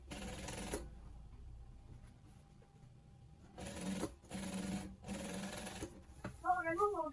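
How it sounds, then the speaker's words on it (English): A sewing machine stitching down the side of fabric for a padded pleated turban, running in a steady whir, stopping for a pause, then returning in several short bursts close by, with a voice heard near the end. "then you go ahead and stitch it on the side to hold it down"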